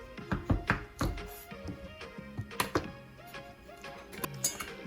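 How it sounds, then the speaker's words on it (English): A knife cutting pumpkin into little pieces, giving rapid, irregular close knocks and taps against a hard surface, with a faint tonal background beneath. "we're just gonna cut this into little pieces"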